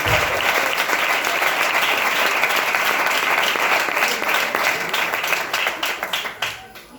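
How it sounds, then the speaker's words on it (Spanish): Church congregation applauding after a scripture reading, loud sustained clapping from a room full of people that gradually thins and fades out over the last couple of seconds. "¿Cuántos se animan a darle un aplauso a esa palabra del Señor Cristo?"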